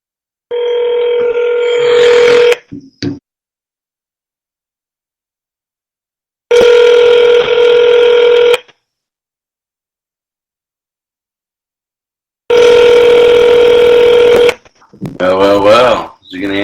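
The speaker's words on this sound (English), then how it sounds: "Is he going to answer the phone?" A telephone call placed from a radio show rings out in three long, loud bursts with silent gaps between them, followed by a brief automated voice snippet at the end.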